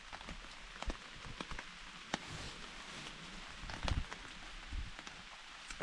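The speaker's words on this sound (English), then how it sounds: "Yeah, it's raining." Rain patters on a hiking trail on the Long Trail, a faint continuous wash with irregular drops and taps landing nearby, and no one speaking.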